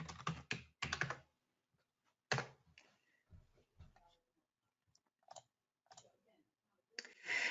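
Someone types on a computer keyboard and clicks a mouse while logging into an account. The keystrokes and clicks come in short, scattered bursts with pauses between them, close but quiet.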